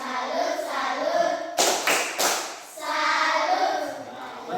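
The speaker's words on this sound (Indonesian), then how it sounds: "Coba tepuk salut untuk Nona Ayu." A class claps a short cheer rhythm in an Indonesian school lesson, a quick burst of several hand claps in a row between stretches of a voice.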